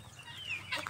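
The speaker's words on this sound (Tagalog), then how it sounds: "Yung mga manok dito." Free-range backyard chickens give a brief, faint cluck, a single short call heard close by.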